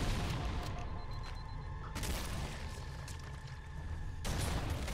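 Frag grenade explosions in Halo: Combat Evolved: heavy booming blasts at the start, near two seconds and again past four seconds, loud and close over a dense wash of in-game battle noise.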